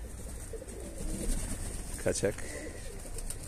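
Pigeons cooing near a person who is speaking outdoors, with a couple of short, distinct coos standing out around the middle of the clip under the ongoing talk.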